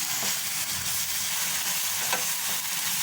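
A chicken mixture with soy sauce and tomato sauce cooks on a low flame, giving a constant close sizzle and fry hiss with faint stirring and no speech.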